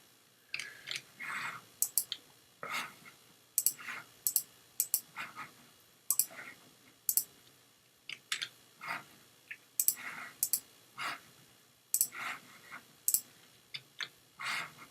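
Computer mouse clicks come in short sharp bursts and pairs at an irregular pace, close by and fairly loud, with faint room noise between them while a figure is copied.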